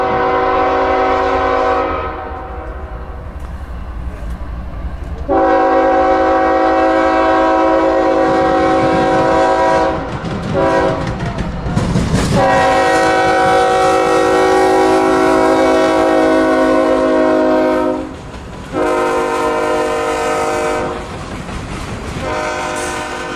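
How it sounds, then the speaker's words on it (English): A mixed freight train rounds a curve toward the Cordele, Georgia railroad crossing, its loud horn sounding in long blasts over the steady rumble and clatter of the rail cars passing close by. "Rolling around the curve on his approach to Cordele Railroad crossing is Q647, daily Chicago to Waycross mixed freight."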